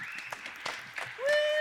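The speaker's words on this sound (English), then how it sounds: "Let's give them a round of applause." Applause from an improv festival audience bursts out briefly for the performers, short and moderately loud, ending in a sustained whoop or whistle.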